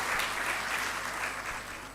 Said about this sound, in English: Let's give them another round of applause, performing one of our traditional dances.